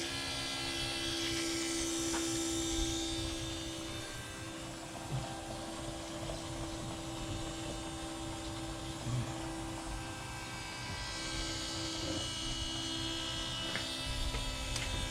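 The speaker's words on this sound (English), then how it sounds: "So what we have is just a 12-volt auto pump" A 12-volt automotive electric fuel pump powered by a battery hums steadily as it draws fuel from a 1997 Ford F350 tank through a filter, a constant drone under outdoor background noise.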